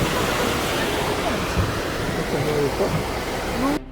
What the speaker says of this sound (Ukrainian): ми попали в високогірні дебрі, звідки бере початок водоспад